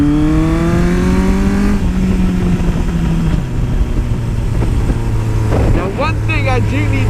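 A 1982 Suzuki GS750E cafe racer motorcycle engine runs loud and close, its rich harmonic drone sliding down in pitch and settling to a throaty idle, with a quick throttle blip near the end.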